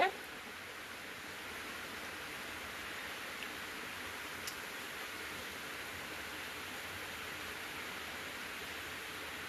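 Steady broadband hiss of a heavy monsoon downpour outside a home, continuous and even with no breaks, a soft wash of falling rain heard from indoors.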